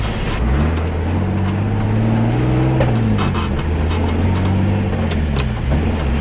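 Boosted car engine with DIY-tuned BMW MS43 engine management pulling hard at wide open throttle in third gear, a loud continuous drone whose pitch climbs steadily, dips briefly near the middle, then rises again without pause.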